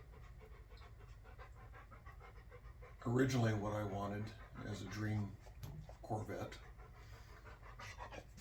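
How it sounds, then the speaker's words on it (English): A Rottweiler pants steadily in the background of a garage while someone speaks over it for most of the stretch. "If you hear any whining in the background, that's my Rottweiler who's acting like I'm deserting her."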